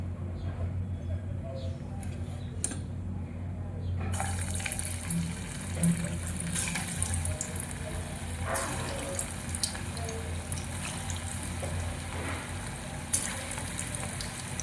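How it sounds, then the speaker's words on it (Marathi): Bottle gourd kofta balls deep-frying in hot oil, a steady close sizzle and bubbling hiss that rises after the first few seconds and runs continuously under a low background hum. "तेल तापलंय आपलं, आपण आता तळून घेऊ।"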